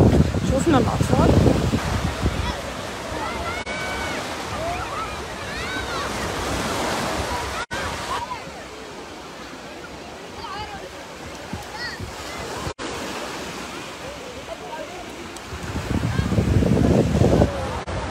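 Sea waves wash onto the beach at Port Said in a steady, broadband surf rush. It swells loudest at the start and the end, with wind noise and faint voices in the background.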